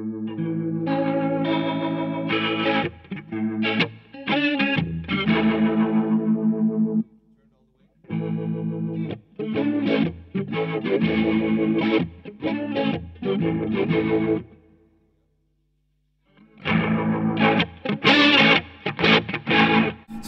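Strymon Lex rotary speaker pedal on an organ-like keyboard tone, swirling chorused chords with edgy distortion played in phrases separated by brief silences, demonstrating the horn level control.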